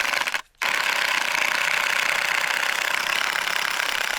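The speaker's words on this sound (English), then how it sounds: "This ice is so thick that it's quite hard to drill" A steady, loud mechanical grinding drone of a powered drill boring into thick lake ice in the Arctic cold runs throughout, with one brief pause near the start.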